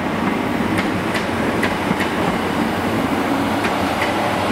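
British Rail Class 769 train arriving at Cardiff station, a steady rumbling rail roar with faint rhythmic clicks of wheels over joints, moderately loud and continuous, no voices.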